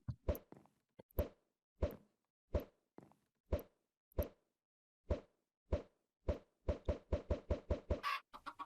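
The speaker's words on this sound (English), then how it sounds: "I wonder if we can get a few chickens in our temporary coop here." Minecraft chickens hatching from thrown eggs in a makeshift coop, a series of short, sharp pops and clucks spaced about every half second, speeding into a quick cluster near the end, close and fairly quiet with no talking.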